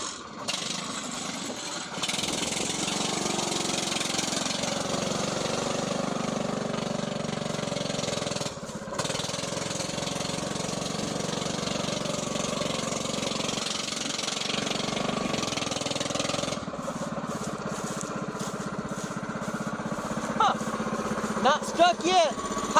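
Shortened Mazda B2200 truck powered by a 6.5 hp Predator 212 engine driving across a flat pasture, its small single-cylinder engine chugging steadily and close for the whole stretch, with brief dips.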